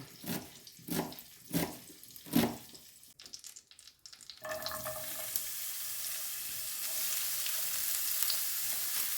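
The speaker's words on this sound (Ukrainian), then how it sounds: "Поки смажиться цибуля" Onion sizzles steadily in butter in a hot pan after a few clinks and a brief burst of running water at the start.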